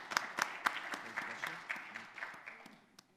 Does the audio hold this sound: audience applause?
yes